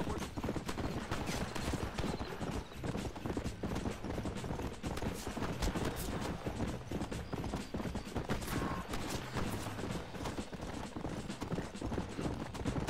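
A horse gallops in the Red Dead Redemption video game, its hooves drumming in a fast, continuous clip-clop rhythm, loud and close, with occasional gunfire-like cracks in the mix.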